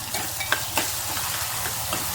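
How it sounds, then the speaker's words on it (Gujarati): Cluster beans fry with ajwain, hing and turmeric in hot oil, a dense continuous sizzle up close with a few soft knocks of a spoon as the mixture is stirred. "હળદર નાખ્યા પછી નાખશું ગુવાર. પછી એને મિક્સ કરી દઈશું."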